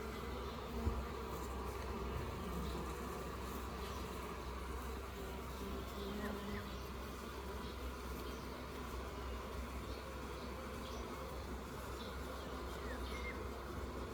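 Honeybees swarm and buzz steadily around an open beehive during a colony inspection, giving a dense, continuous drone with faint background hum.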